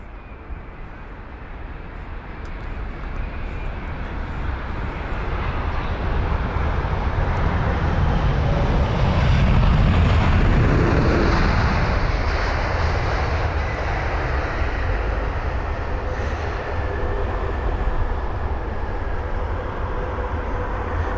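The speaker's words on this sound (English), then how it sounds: "the Virgin Atlantic 7879 Dreamliner with the reg Golf Victor November Yankee Lima GVNYL from Los Angeles LAX" A five-year-old Virgin Atlantic Boeing 787-9 Dreamliner, arriving from Los Angeles at London Heathrow, makes a loud, steady engine roar that swells toward the middle and then holds, with no voices.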